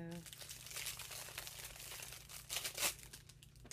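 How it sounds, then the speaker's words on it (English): Plastic wrapping crinkles and crackles as purchased items from a shopping haul are unwrapped, with a sharper rustling burst near the end, while people chat in the background. "if you'd unwrap them, we could probably see them better"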